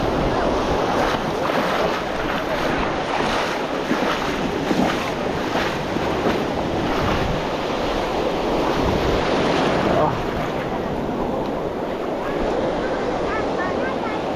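Strong ocean waves surge and crash without pause while heavy wind buffets the microphone, a loud, dense roar with faint voices beneath it.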